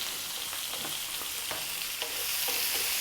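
Ginger fish with bell pepper stir-fried in a pan over high heat: steady loud sizzling with frequent scraping and tapping of the spatula, no voices.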